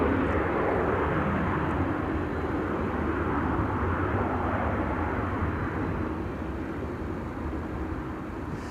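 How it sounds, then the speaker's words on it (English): Steady deep jet roar of a KLM plane taking off from runway 18 left at Schiphol Airport, loud and sustained, fading slightly toward the end, no voices. "KLM flight 879 is going to be taking off from 18 left pretty soon."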